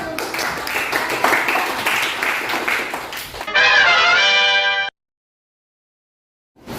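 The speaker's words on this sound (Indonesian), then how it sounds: "Oke, boleh tepuk tangan" A class gives a burst of applause after a student group's presentation, a dense run of clapping lasting a few seconds. A sustained tonal sound follows, then a stretch of silence.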